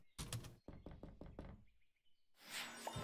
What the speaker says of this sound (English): Knock.